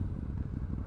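Moto Guzzi V7 II motorcycle engine running with a steady, rough low-pitched throb, close and loud throughout the short stretch with no talk.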